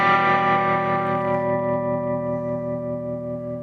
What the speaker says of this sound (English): I am now modeling a way fancier trem pedal than I ever would have gotten